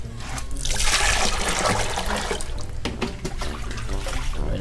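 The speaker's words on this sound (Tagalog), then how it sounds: "So, dagdagan natin ng tubig." Water is poured into a Daphnia culture mix, giving a steady close splashing trickle that swells early and then runs on for several seconds, with no talking.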